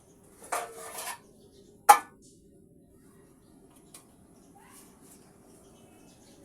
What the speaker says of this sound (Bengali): এখন আমি কিছু সময়ের জন্য ঢাকনা দিয়ে ঢেকে রাখবো